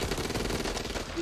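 Rapid automatic gunfire from the zombie shooter video game Back 4 Blood, a dense continuous burst of shots lasting about a second with no speech over it.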